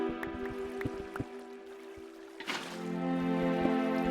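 Water placed in a Minecraft survival world: a single soft splashing whoosh midway through over steady background music, followed by a faint lingering trickle.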